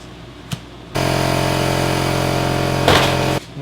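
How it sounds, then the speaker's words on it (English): An air compressor for a pneumatic nail gun kicks on abruptly with a loud, steady motor drone and rattle that runs for about two and a half seconds, then cuts off sharply. "Although, I gotta turn the compressor on."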